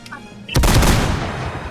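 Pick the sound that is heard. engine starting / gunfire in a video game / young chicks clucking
gunfire in a video game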